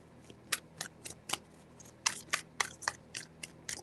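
Tarot cards are shuffled by hand in a rapid series of crisp riffling snaps and flicks, close and fairly quiet, with irregular short bursts and no talking.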